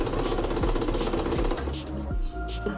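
Near and loud, a sewing machine stitches the curved edges of corset cup pieces for an Ankara corset dress, its fast continuous mechanical chatter running unbroken with a few sharp knocks and a faint voice briefly mixed in.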